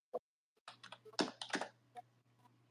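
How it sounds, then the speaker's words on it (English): Close, quiet typing on a computer keyboard, a brief run of irregular key clicks in uneven bursts over a faint steady hum. "I'm just typing and letting everybody knows in the other social media"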